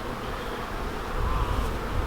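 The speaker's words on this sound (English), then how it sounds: "And they are very strong, active bees." Honey bees buzzing at an opened, honey-filled hive during a hive split, a dense continuous hum of many strong, active bees close by, swelling slightly louder toward the end.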